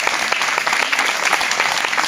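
A concert audience at the Monestir de les Avellanes breaks into loud, sustained applause, a dense, even wash of many hands clapping close by with no break for two seconds.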